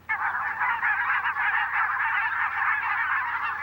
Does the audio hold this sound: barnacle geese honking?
yes